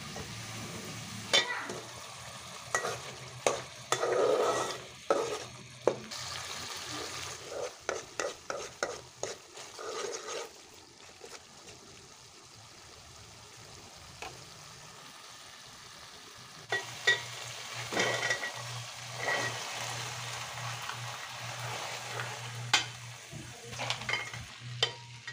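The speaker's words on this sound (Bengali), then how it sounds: "ভালো করে গুঁড়া মশলাটা কষিয়ে তারপর তেলটা যখন ছেড়ে দিবে তখন উপর থেকে কিছুটা টমেটো দিয়ে দিব" Ground spices and tomatoes are stir-fried in oil for a broad bean seed curry: a soft frying sizzle under bursts of rhythmic scraping strokes, with a quieter stretch midway before the stirring resumes.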